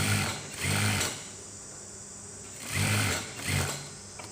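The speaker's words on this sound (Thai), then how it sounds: "เราก็จะเย็บปลายแขนก่อน เย็บชิดริม" A sewing machine stitches a sleeve hem close to the edge of a garment in several short bursts of rapid mechanical whirring, separated by quiet pauses.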